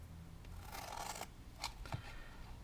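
Scissors snip through paper for a gift card box, a few quiet separate cuts, close and crisp with short pauses between them.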